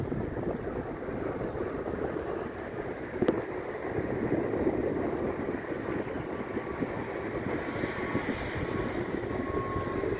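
Mutrah harbour in Oman, with steam boats, motor boats and warships moored, gives a steady low rumble of waterside engines mixed with gusty wind buffeting. The noise stays even and broad throughout, and no one speaks.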